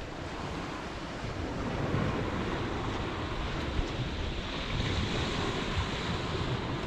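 Waves breaking on a UK beach, a loud continuous roar of surf mixed with wind buffeting the microphone, steady throughout with no voices.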